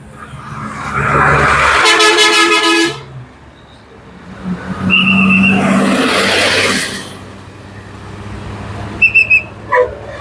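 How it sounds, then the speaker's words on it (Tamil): Vehicles moving along a road in Jaffna, with a loud passing surge near the start, another swell mid-way and a few brief horn toots near the end, no talking. "தொடர்ந்து வந்து வாகனங்கள் வந்து கொண்டிருக்குது"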